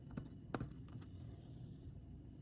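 A few soft, sparse key taps on a 2012 MacBook Pro keyboard as a password is typed, close and quiet against a low room hum.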